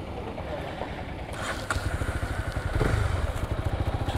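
Honda CB300R motorcycle being ridden on a road trip near Bangalore, a close engine drone with wind rumble that rises into a throbbing, pulsing exhaust beat as the bike accelerates.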